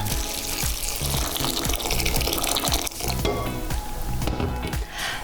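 Boiling water pours steadily over cashew nuts in a large bowl, a continuous splashing trickle close by with a few small knocks, no voices.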